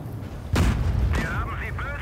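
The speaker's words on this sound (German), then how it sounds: "ich schieße ihm in die Kanone" A single loud, booming cannon shot from a tank in World of Tanks Blitz, an M6 fighting in a harbour bay map, with a deep low rumble trailing off and someone talking over it.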